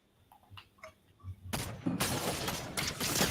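Video game gunfire erupts after a quiet start: faint ticks and small clicks, then a loud dense burst of rapid shots that continues to the end.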